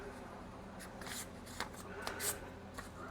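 A sheet of packing paper is folded in half, giving quiet crinkling rustles and a few sharper crackles over a few seconds, close by.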